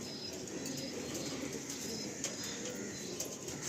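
Pigeons in a loft, low scattered cooing and faint rustling against a steady background hiss, quiet and somewhat distant with no clear voices.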